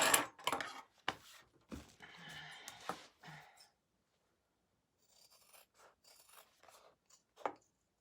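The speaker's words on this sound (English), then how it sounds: "we're gonna trim our seam allowance real quick." Scissors snip and rasp through the seam allowance of a sewn fabric wallet in short close bursts, then go quiet before a few fainter snips and rustles follow.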